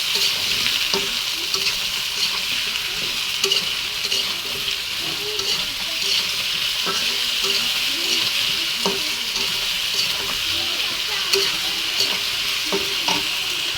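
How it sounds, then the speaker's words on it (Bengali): Potatoes and tomatoes coated in ground spice paste fry steadily in a pan, with a constant sizzle under repeated scraping and stirring strokes throughout. "মশলা দিয়ে নাড়াচাড়া করে নেব।"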